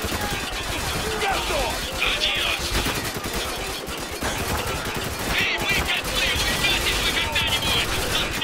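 Dense, continuous gunfire from the video game Spec Ops: The Line, rapid shots overlapping with explosions and crashes, loud and sustained throughout.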